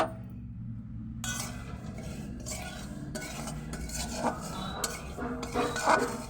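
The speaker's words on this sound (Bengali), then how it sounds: "এবার খুন্তির সাহায্যে আমি নেড়ে নেব।" Semolina being stirred with a spatula in a pan, giving a steady close scraping and soft clinking throughout with no talk.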